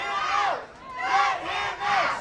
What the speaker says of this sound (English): The crowd wants him to let it out. This crowd is hot tonight.